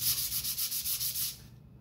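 Quick rhythmic back-and-forth sanding strokes on a wooden model ship deck, about ten brisk passes, close and fairly quiet, stopping near the end.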